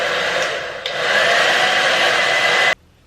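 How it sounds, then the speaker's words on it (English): A hair dryer on a higher setting drying paint on an airbrushed lure, blowing steadily with a loud, close whoosh and faint whine, stepping up slightly before cutting off abruptly. "I'm going to take my hair dryer, put it on a higher setting"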